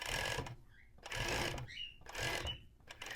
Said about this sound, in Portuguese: Eu não deixo a overlock pegar o elástico